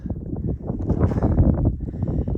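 Wind buffeting a microphone on the summit of Mount Lincoln, a loud, continuous rumbling roar that surges and gusts close up, with no voice heard.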